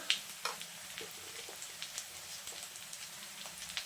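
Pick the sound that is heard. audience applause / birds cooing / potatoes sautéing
potatoes sautéing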